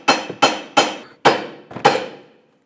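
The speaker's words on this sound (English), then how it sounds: "tap the knuckle right here so it can release the ball joint stud" A hammer taps the steering knuckle of a 2003-2008 Toyota Matrix to free the ball joint stud, five sharp ringing metallic blows in quick succession, close and loud with short decays.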